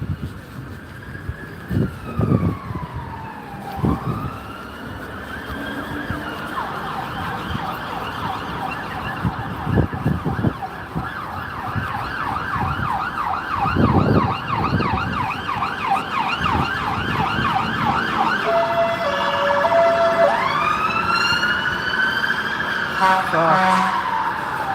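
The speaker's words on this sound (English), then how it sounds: "See, fire trucks." Fire truck sirens wail continuously on a street in Gloucester, rising and falling with rapid yelping passages, loud and close over road traffic noise and thumps, building in intensity throughout.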